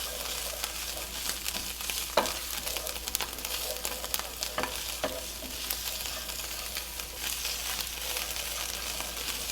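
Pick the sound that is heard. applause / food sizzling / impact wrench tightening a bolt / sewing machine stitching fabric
food sizzling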